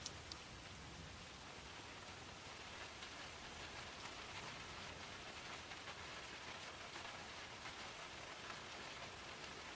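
Steady rain falls continuously, a dense, even hiss of drops striking surfaces, with no voices or other sounds breaking through the calm downpour.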